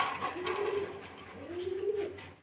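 Blue shirting pigeons give two low, rolling coos, each lasting about a second, close and clear, with no talk over them.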